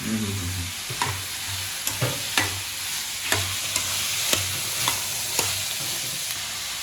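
Onions frying in a pan for spring onion egg burji, a steady close sizzle with regular scraping stirs of a spatula roughly every second, no talking.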